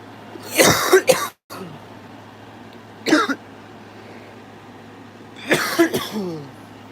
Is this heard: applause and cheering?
no